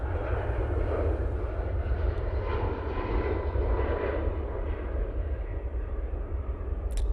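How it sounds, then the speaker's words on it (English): A Boeing 737 MAX 8 departs Manchester Airport with a broad, rumbling jet roar that holds steady in the distance, gradually thinning toward the end. "All blue AT winglet 737 MAX 8 going out there"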